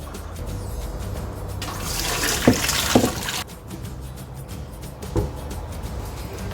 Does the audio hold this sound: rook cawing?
no